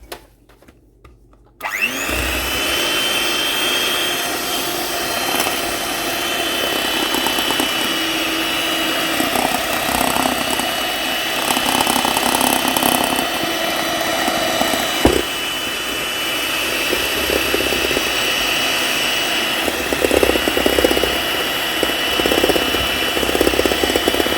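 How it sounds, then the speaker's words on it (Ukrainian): An electric hand mixer whirs loudly and steadily while beating a cup of sugar into charlotte sponge cake batter, starting after a brief quiet moment and running on for over twenty seconds. "стакан цукру. і знову збиваємо."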